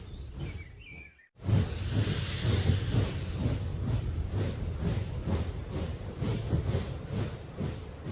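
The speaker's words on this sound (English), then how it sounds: "That's our train from last night." A steam train passes with a loud burst of hissing steam, then continuous rhythmic rumbling and clanking of wheels over the rails at close range.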